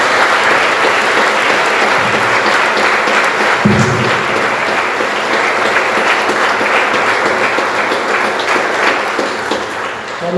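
A church congregation claps in praise during an evening service, loud continuous applause with a brief thump partway through and a slight fade near the end.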